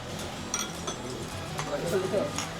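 Glasses clink together in a cheers toast at a meal of kansi lugaw, a few light chinks against steady background chatter and table clatter.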